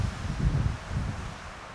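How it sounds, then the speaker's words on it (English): Wind blows outdoors in gusty low rumbles against the microphone, swelling and easing over a couple of seconds with a faint leafy rustle and no voices. "it's a little windy"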